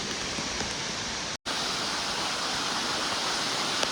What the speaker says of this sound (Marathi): मस्त आहे पाणी आणि समोर धबधबा आहे आपला